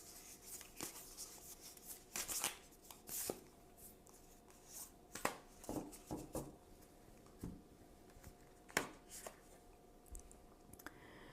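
Oracle cards being shuffled and handled, giving soft papery riffles, flicks and taps in irregular bursts, close and fairly quiet with no talking.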